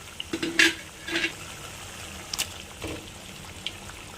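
Chicken pieces being stirred into a simmering tomato and onion gravy in a pan, with a few soft scraping stirs and wet squelches over a low bubbling background, no voices.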